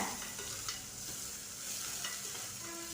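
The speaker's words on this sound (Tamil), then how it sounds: "வெங்காயம் லைட்டாக கலர் மாதிரி வரணும் அது வரைக்கும் நம்ம வதக்கி எடுத்துக்கலாம்" Chopped onion sautéing in a pan, a steady soft sizzle with scraping stir strokes recurring through the mix, close and alone at a low level.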